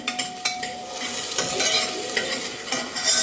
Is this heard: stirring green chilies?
yes